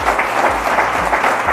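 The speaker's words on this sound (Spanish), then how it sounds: "Aplausos para Román." Steady, dense applause from an audience at a radio announcing workshop, filling the whole stretch with continuous close clapping and no talk over it.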